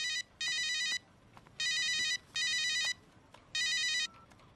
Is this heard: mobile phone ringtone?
yes